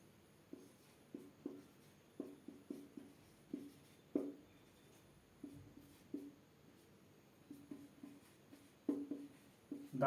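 Pen or chalk writing by hand during a mathematics lesson, a series of short scratchy strokes in uneven bursts, close and fairly quiet, with no talk over them.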